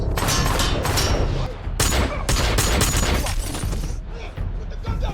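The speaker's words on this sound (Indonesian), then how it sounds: "Hill yang telah bersiap, tiba-tiba menembak teroris itu" A movie shootout with dense, rapid gunfire bursts and booming shots, loud and continuous, with brief breaks between volleys and faint voices under the din.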